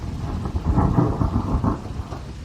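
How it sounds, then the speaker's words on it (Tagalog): Heavy rain pours steadily throughout, with deep rumbling thunder rolling underneath and swelling through the middle; a loud, continuous storm with no voices. "Ay, naku, ang lakas naman ng ulan. May bagyo na naman ba?"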